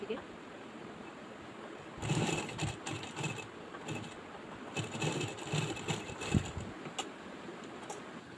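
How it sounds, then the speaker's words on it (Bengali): A sewing machine stitches a decorative sleeve design in several short whirring bursts, quiet and close, with brief pauses between runs. "অপর সাইডেও আমরা সেলাই করে নেব।"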